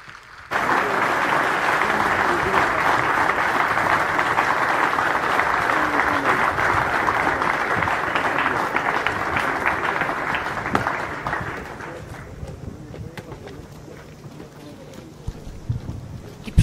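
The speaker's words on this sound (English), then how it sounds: "please give a huge round of applause to all the awardees and the Champion Squadron" A large crowd applauds awardees and the Champion Squadron at a naval academy passing out parade outdoors, loud sustained clapping with wind noise for about eleven seconds before fading into quieter ambience.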